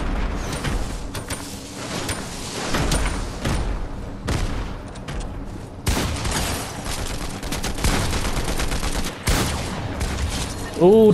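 A combat shotgun firing in Fortnite booms in repeated loud blasts amid a busy, continuous fight with other gunfire, some talk mixed in.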